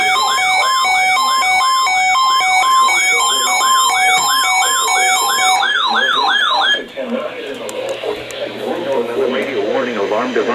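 NOAA Weather Radio warning alarm for station WWH-33: a loud, steady two-tone warbling alarm tone sounds alone for about seven seconds, then cuts off as a synthetic-sounding announcer voice begins speaking.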